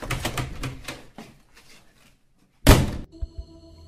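A single heavy door slams in a radio drama, one sharp loud thud after a stretch of quieter knocking and rattling, followed by a faint lingering hum.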